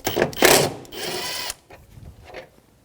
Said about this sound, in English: 10mm socket or wrench, and you're going to remove that.